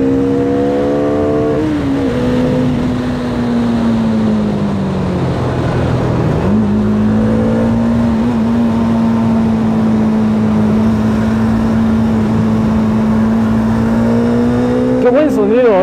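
A Bajaj Dominar 400 motorcycle engine revving, deep and steady, rising and falling in pitch with a sharp drop midway before climbing again, loud and close.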